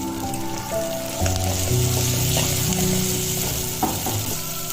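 Onions sautéing in a pan for moong dal sambar crackle and sizzle steadily at close range, with stirring sounds throughout.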